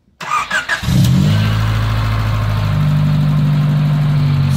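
A Honda Civic with a D16Z6 engine cranks briefly with a few starter pulses, then catches and settles into a steady, loud idle close by, with no talking.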